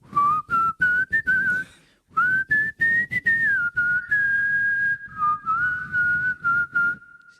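A person whistles a wavering melody in short bursts, then holds longer sustained notes, close and clear, with no talking.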